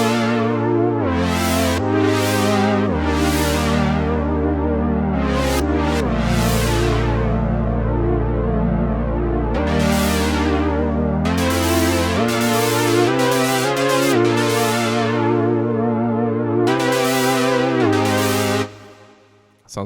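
Lush chord preset from a Synapse Audio Legend HZ synthesizer, sustained chords changing every second or two with bright swelling attacks and a deep low end, loud and upfront before cutting off at the end.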